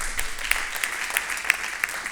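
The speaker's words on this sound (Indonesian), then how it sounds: "Tepuk tangan Tuhan Yesus." A church congregation applauds during a service, with brisk, even clapping that fills the room for a couple of seconds.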